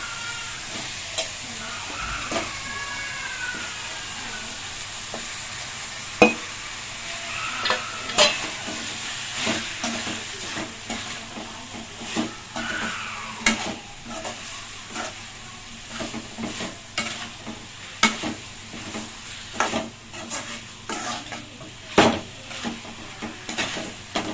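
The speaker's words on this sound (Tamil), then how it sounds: "இப்போ சிக்கன் போட்டு வதக்கியாச்சு" Chicken sautéing in a pan with softened onion and tomato for a Tamil chicken kulambu, a steady close sizzle broken by irregular scraping clicks of a spoon stirring against the pan, no voices.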